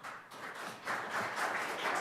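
Applause in city council chambers is a soft, steady patter of many hands clapping a little way off, swelling slightly partway through, with no talk over it.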